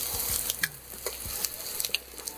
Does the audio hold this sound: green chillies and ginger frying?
yes